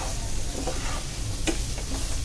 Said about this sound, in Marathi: ह्याच्यात आपण बटाटे गॅस मोठा करून आता हे छान आपण एकजीव करून घेणार आहोत